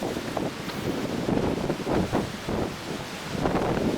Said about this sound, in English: Wind's gusting probably over 120, 130 miles an hour now.